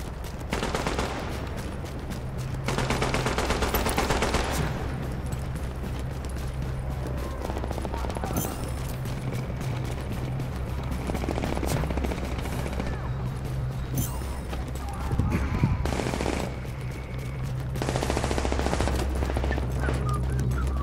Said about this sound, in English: Hostiles are firing on a fortification at Alpha. A fortification is under fire.